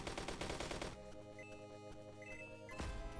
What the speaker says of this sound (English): The AK is putting in a little work.